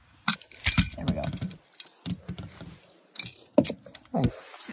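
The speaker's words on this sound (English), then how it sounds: "Oh, keys. I'm not sure what both are for." A realtor touring a house at 511 White Oak handles a set of keys, making close, bright metallic jangles in irregular bursts. Quiet handling noises fill the pauses between jingles, with no talking over them.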